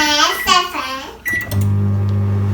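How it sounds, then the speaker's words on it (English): A voice speaks briefly, then a microwave oven melting chocolate beeps once and settles into a steady, loud electrical hum that runs to the end. "So let's put the chocolate in the microwave"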